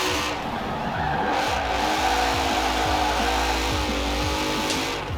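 Mercedes-AMG GT, an all-wheel-drive car weighing over 4,000 pounds, driven in Forza Horizon 4 with a steady loud engine drone, rising and falling through gear shifts, and intermittent tyre squeal and skidding throughout.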